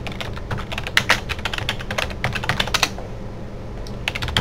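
Close, rapid clicking of computer keyboard keys in quick bursts as a username and password are entered for a telnet login to a DD-WRT router, with a short pause before the final few taps.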